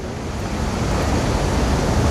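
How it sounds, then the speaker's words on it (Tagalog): Water at Athabasca Falls rumbles in a dense, steady roar, loud and continuous, with no voices over it. "maririnig mo na dumadagong-dong pa rin, may ano pa rin yung tubig sa lalim"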